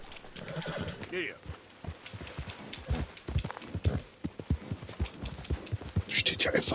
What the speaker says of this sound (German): Wer stellt da Gottverdammt ein Pferd im Weg?